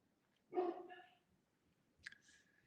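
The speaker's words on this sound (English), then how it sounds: "sorry about my dog barking there" A single dog bark followed by a shorter yip, somewhat distant and faint against a quiet background.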